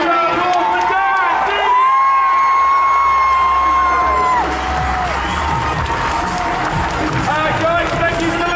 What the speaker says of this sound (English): Let's have a huge round of applause for Dan!